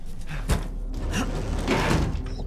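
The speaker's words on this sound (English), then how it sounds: "I guess I unbarricade the door." A barricaded door is pulled open in the video game Resident Evil Village, with wooden knocks and scrapes followed by a heavy sliding, creaking sweep, loud and close.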